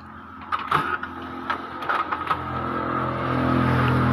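An Epson L120 inkjet printer runs a test page after repair, with a series of clicks and mechanical knocks at first, then a steady whirring feed that grows slightly louder, close and without any talk.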